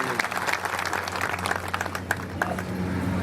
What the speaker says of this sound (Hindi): जरा जोरदार ताली बजा दीजिए।